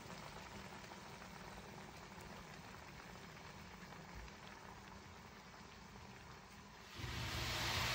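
A pot of mango pieces with turmeric, salt and a little water, cooking for a sweet chutney, gives off a steady soft bubbling simmer that turns brighter and hissier toward the end.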